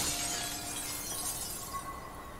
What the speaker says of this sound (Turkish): Şu camı mı kırıp gireceğim acaba ya?